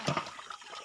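Water poured out of a container at a pond being drained to catch fish at night, a brief soft splash and slosh, fairly faint and close.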